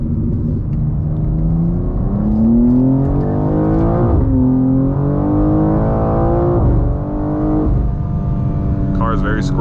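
A BMW M2 G87 running an M2CS tune accelerates hard from inside the cabin, its engine note climbing through gears in repeated rising sweeps with shift breaks, loud and steady, while a driver speaks over it.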